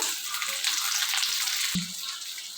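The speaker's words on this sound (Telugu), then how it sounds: "ఇవి కొంచెం ఫ్రై చేసుకుందాము" Dried red chilies, chopped onion and cumin frying in hot ghee for a dhaba-style capsicum masala curry, a continuous even sizzle with one soft clink near the end.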